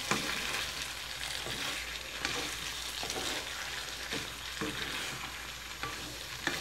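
Chicken liver and gizzard adobo with potatoes and sugar being stirred in a pan, a continuous close sizzle with soft scraping strokes of the spoon at irregular intervals.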